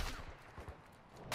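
Shots from a weapon in the video game DMZ ring out in a short, scattered run: a few soft pops early, then a louder sharp burst at the very end, with no talking over it.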